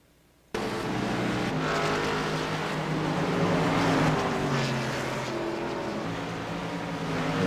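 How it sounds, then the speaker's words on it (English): A Pepsi Max-sponsored number 24 stock car races down the back straightaway at Dover International Raceway, its engine sounding strained. The loud, sustained roar sets in abruptly and holds steady with wavering tones, with no talk over it. "hear that engine struggling on that Pepsi Max 24 down the back straightaway"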